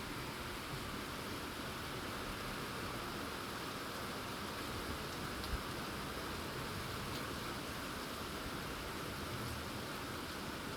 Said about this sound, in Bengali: জোর বৃষ্টি এসেছে।